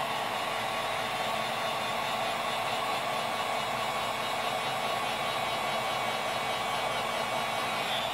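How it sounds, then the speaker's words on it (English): A heat gun blows steadily, warming the adhesive on an LG G3 phone during an LCD replacement, giving a close, even hiss and whir like a hair dryer that stays constant throughout, with no speech. "Get a heat gun. I like to warm up this."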